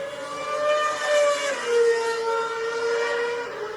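A high, buzzing Formula One car engine whine on an in-lap that steps down in pitch as it downshifts, then holds a lower drone.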